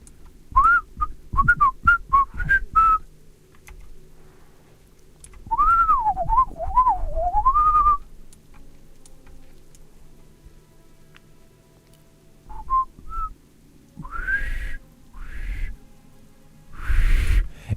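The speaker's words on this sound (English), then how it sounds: "It's very hard to whistle in a super high pitch" A person whistles in short high-pitched bursts and rising, wavering phrases, pausing between attempts and ending with breathy, strained tones, close and fairly loud.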